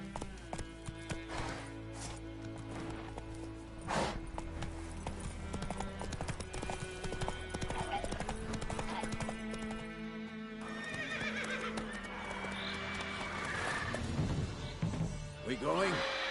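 Horse in The Witcher 3 galloping with rapid clip-clop hoofbeats and loud whinnies, set among game music and sound effects, with voices speaking over parts of it.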